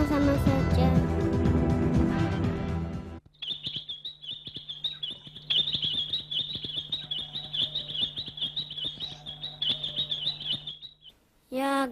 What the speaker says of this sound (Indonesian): Ayo burung manis, diam dulu ya.